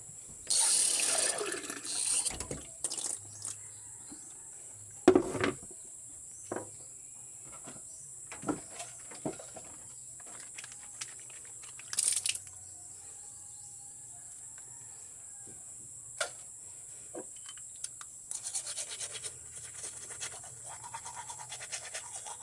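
Water runs from a tap into a sink while teeth are brushed, with intermittent scrubbing, splashes and knocks against a steady hiss. Close and moderately loud, with no talking.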